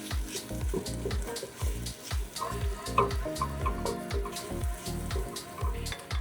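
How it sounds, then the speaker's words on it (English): Chopped onion and garlic saute in a pan for Greek baked giant beans, a moderate crackling sizzle with repeated scraping and stirring strokes in a steady rhythm. "chopped up onion, 3 cloves of chopped garlic. We're gonna saute this."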